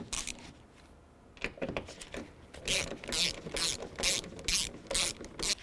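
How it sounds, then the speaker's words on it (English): A ratchet with an 8mm socket backs out side mirror mounting bolts on a 2005-10 Jeep Grand Cherokee, starting with a few scattered clicks, then settling into a steady rhythm of quick, close ratcheting strokes. "We have 8mm socket. I'm going to take these mounting bolts off."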